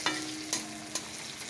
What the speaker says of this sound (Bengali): দেখুন করলা ভেজেছি অল্প করে, দেখুন করলা ভাজা।